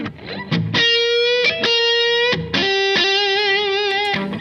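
Sustained distorted electric guitar notes from a Quad Cortex ring out loudly through a cabinet impulse response and convolution reverb, with a few brief picked transitions between held tones and a roomy tail.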